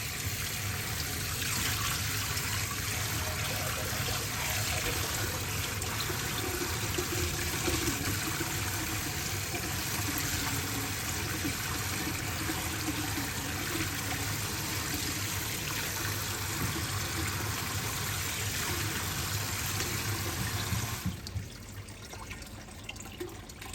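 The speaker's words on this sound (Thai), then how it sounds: "เปิดน้ำล้างค่ะ" Tap water pours steadily into a strainer to rinse cooked sago pearls for a Thai palm seed dessert, a continuous broadband rush that cuts off abruptly near the end, leaving faint room noise.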